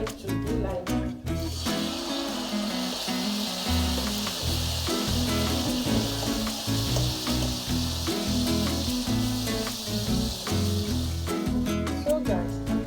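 Egg sauce frying in a fry pan over a gas flame, giving a steady sizzle with frequent clinks and scrapes of a utensil against the pan throughout.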